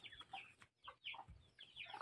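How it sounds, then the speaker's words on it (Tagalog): Chickens on a hot day, heard as repeated clucks and short fowl calls in bursts, near and fairly faint, with no talk. "Gahangak ang manok sa kainit."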